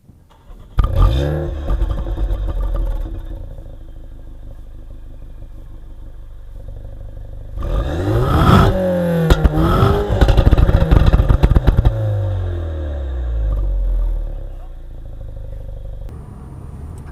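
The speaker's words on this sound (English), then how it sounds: "the aftermarket exhaust on it with nice carbon tips. I think they look really good and it sounds very, very nice." Mini Cooper S John Cooper Works with an aftermarket exhaust and carbon tips, its engine starting and then revving in several loud, close bursts with sweeping pitch before dropping back to a steady idle, with no talk.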